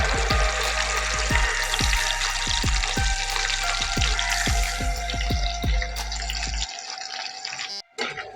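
Ground spice paste fries in a pan for chicken changezi, a loud close sizzle with rhythmic low thumps from stirring that stop near the end, followed by a brief quieter moment, with no talk.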